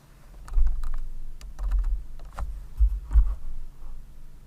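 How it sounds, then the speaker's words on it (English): Computer keyboard being typed on in an Access database lesson, a few scattered clicking key presses with low thumps, close up and alone without talk. "we're going to hit the enter key"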